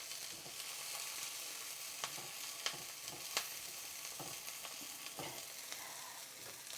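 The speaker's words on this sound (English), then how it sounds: "Let's just give that a quick stir." Food softening in a hot pan sizzles quietly and steadily as a utensil stirs it, with a few soft scraping clicks against the pan, close and faint with no talking.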